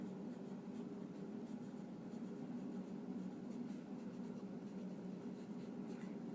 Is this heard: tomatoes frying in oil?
no